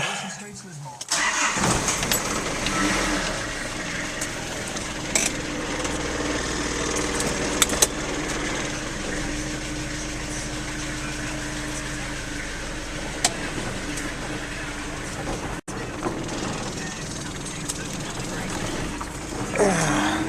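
A Nissan Navara D21 pickup truck engine cranks and catches, then settles into a steady, loud idle that runs on with small clicks and clunks.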